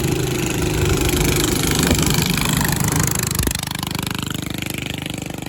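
Go kart engine fitted with a stage 1 performance kit and running on old gas, a loud close rattling drone that drops abruptly partway through to a lower, steady idle.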